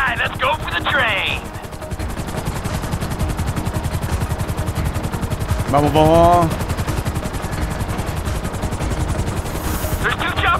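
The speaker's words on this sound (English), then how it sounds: "There's two choppers coming toward my train." Helicopters in Grand Theft Auto 5 approach with a steady rotor chop. Gunfire-like bursts and a rising whine mix in. Someone shouts briefly over the racket at the start.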